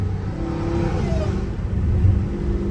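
A Dodge Hellcat Redeye revs steadily at moderate RPM, its deep rumbling exhaust joined by a rising supercharger whine, loud and close with no talking.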